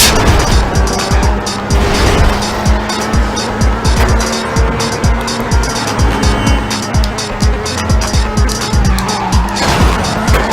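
Race cars launch from the start line in Midnight Club II on Los Angeles streets, with loud engines revving hard and tires squealing in repeated skidding bursts, dense and close, with no speech.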